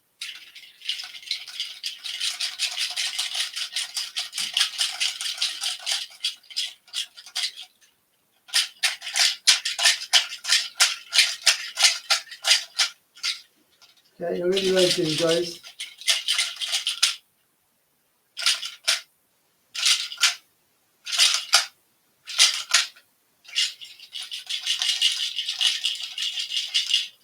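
Dry, bright rattling of a nutshell shaker in long shaken bursts and short rhythmic shakes, close up, with a brief spoken remark in the middle.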